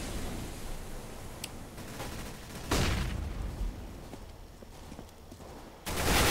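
Gunfire during a competitive Counter-Strike match on the Inferno map, with a few sharp shots and bursts standing out over a busy, steady game background, including a loud crack near the middle and another burst at the end.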